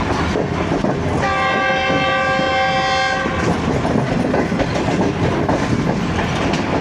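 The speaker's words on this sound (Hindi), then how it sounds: "अब शालीमार एक्सप्रेस होगी।" The Shalimar Express passes close by on a Pakistani railway line, its rolling rumble and wheel clatter carrying throughout, while a loud sustained horn blast sounds for about two seconds early on before the steady noise of the train continues.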